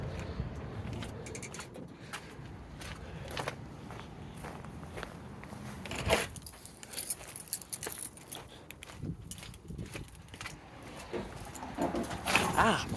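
Metallic jingling of keys mixed with footsteps and rustling, irregular clinks growing louder toward the end, close by.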